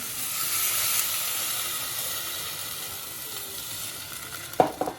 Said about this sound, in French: On remue un peu quand même hein, pour décoller les sucres qui sont dans le fond